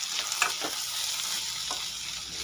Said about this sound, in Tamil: இப்போ இதை நல்லா கலந்து விட்டு நல்லா வதங்கட்டும்